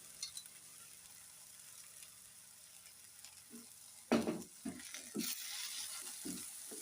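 Fried dried fish goes into a pan of gongura curry and is stirred, producing faint sizzling that turns into several soft scraping, clattering stirs in the second half, with no talking.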